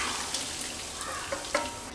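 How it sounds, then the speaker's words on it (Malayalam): Cooked vermicelli and cold water pour through a sieve for semiya upma, a continuous watery hiss with a couple of light clinks near the end. "ഇതുപോലെ ഒരു അരിപ്പയിലേക്ക് അരിച്ചൊഴിക്കാം."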